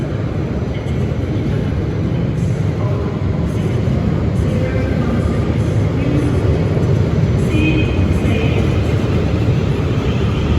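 Class 450 trains bound for Windsor & Eton Riverside pass by, a loud, steady broadband rumble and roar that holds without letting up, with faint higher squeals on top.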